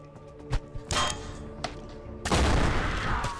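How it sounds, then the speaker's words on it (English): A grenade detonates in the turn-based game Mutant Year Zero, a broad roaring blast late in the moment that follows a few sharp bangs and thuds, loud and close with rumbling decay. "let's throw a grenade right on top of ourselves"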